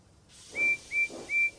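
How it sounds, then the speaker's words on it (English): Percy the small steam engine gives three short, loud whistle blasts in a quick even rhythm over a steady hiss of steam. "Percy whistled loudly."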